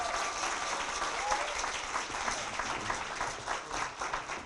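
Another round of applause for honorees at a Women's History Month employee recognition luncheon, many hands clapping in an even, continuous wash with faint murmuring beneath.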